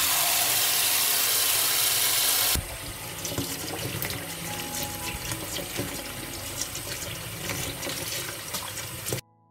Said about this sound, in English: I'll wash the blueberries first.